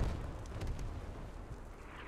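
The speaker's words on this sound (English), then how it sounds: "Airstrike coming in." Airstrike explosion in the military shooter game Squad, heard as a distant, low rumbling boom with a few faint cracks on top, rolling steadily and fading over two seconds.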